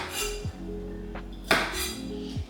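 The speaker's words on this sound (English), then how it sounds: "And with my carrots, I always like to chop off the tops." A knife chops the tops off carrots on a cutting board, giving two or three sharp, close knocks against a steady background hum.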